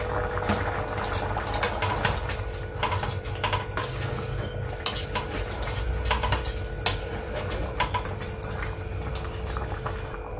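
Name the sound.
moong dal being added and stirred in a cooking pot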